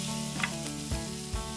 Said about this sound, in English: Listen to that sound. Got some good sizzle going on.